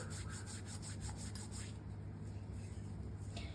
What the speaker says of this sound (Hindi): कसूरी मेथी को भी थोड़ा इस तरीके से हाथों से क्रश करके डालेंगे